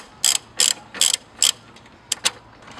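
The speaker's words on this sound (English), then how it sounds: "So I'm just using the ratchet to loosen." A hand ratchet loosens an engine mount bolt on a 2004–2013 Mazda 3, giving four evenly spaced rasping bursts and then two quicker short clicks, close and clear with no voices.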